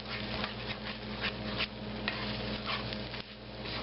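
An egg cracked whole into a hot pan and scrambled with other ingredients for a street-food breakfast, steady dense sizzling with scraping stirring strokes on top, close and continuous, no voices.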